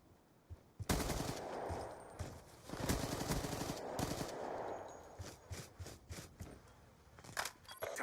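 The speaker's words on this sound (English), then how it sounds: "there's actually a gunfight going down on his circle" Bursts of automatic gunfire ring out in a console shooter finals match, with loud rapid volleys starting near the beginning, then sharper scattered single shots and short bursts punctuating the rest.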